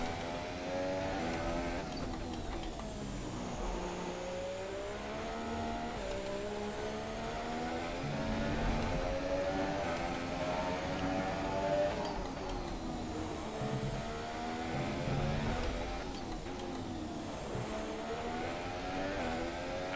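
Formula 1 race car engine in the F1 2017 video game, racing at the Russia Grand Prix, with a steady high-revving whine that rises and falls through gear changes for the full stretch, loud and continuous without talk.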